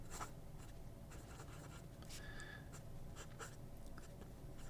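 A Joya fountain pen with a modified italic fine nib writes on paper, giving faint, close scratchy strokes in short irregular runs against a quiet background with no talk.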